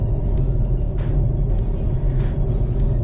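A BMW 523i Touring with four-wheel steering, borrowed as a loaner car, drives along with a constant deep rumble of engine and road noise, light ticks and a faint whine over the top, no voices.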